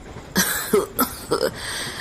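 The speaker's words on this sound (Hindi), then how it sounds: "वो बूढ़ा खांसते हुए कहता है" An old man coughs in a dramatized Hindi horror story: a rough, close sequence of about four hoarse coughs with short pauses between them.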